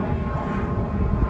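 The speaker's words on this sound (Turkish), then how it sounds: "Şu uçak sesini de duyuyorsunuzdur." Airplane passing overhead near an airport, heard from a large public park in Australia: a steady, loud broadband engine roar that fills the short stretch without pause.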